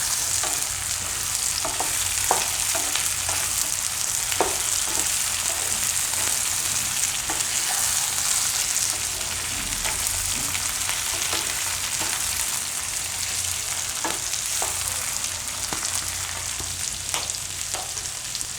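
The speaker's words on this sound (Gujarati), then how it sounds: "હવે આપણે એમાં નાખીશું વટાણા બાફેલા, એને મિક્સ કરી લઈશું આમાં।" Boiled peas being stirred into masala frying in oil for aloo matar paneer, a constant close sizzle broken by frequent spoon scrapes and clacks against the pan, with no voices throughout.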